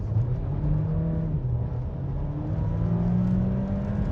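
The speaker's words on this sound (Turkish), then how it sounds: "yine bir hızlanma göstermeye çalışayım. Gazladım." A 2022 Seat Ibiza FR engine pulls hard under acceleration past 100 km/h, its droning note rising steadily, loud and close from inside the cabin.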